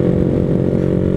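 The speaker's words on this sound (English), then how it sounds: "My AR exhaust sounds really good." A Vader 125cc motorcycle fitted with an AR exhaust gives a brief, loud, steady drone at a low, even pitch that stays unchanged and is heard alone.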